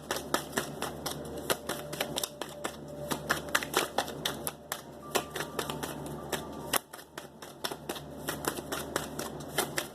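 Tarot cards are shuffled and handled in a quiet room, making a long run of rapid, crisp flicks and clicks close by. The rhythm is brisk and uneven, with a brief pause near the end.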